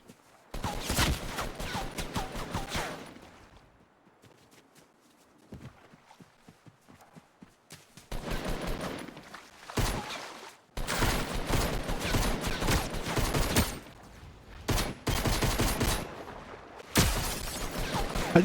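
Gunfire in the video game Fortnite during a solo match, rapid bursts of shots in several loud clusters separated by quieter pauses with scattered single shots.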